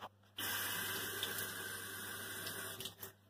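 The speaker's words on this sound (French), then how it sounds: "Je vais prendre un pinceau, je vais mettre de l'eau" Water runs from a kitchen tap, a steady close rushing stream that starts abruptly and stops after about two and a half seconds, with no talk.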